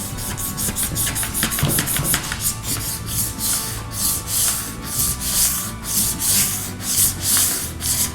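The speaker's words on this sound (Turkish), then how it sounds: "Önce zımpara ile bu cila yüzeyin cilasını biraz alalım." Steady, continuous scratchy rubbing of sandpaper across a glossy painted paint-bucket surface, with rhythmic back-and-forth strokes throughout; close and fairly loud, no voices.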